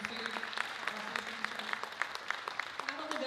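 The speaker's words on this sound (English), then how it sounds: "another large round of applause" Steady applause from an audience, many hands clapping at an even pace, with a voice speaking faintly over it.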